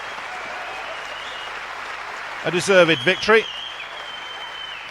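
A squash crowd applauds and cheers a player's supporters-backed win at the 1999 Super Series Finals in London, a steady burst of clapping rising briefly in the middle while a commentator speaks over it.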